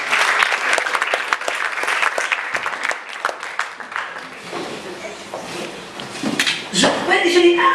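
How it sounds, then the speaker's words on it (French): A church congregation claps loudly and steadily for several seconds, with voices calling out beneath the applause. The clapping thins toward the end as other sounds rise in the room. "On acclame le Seigneur"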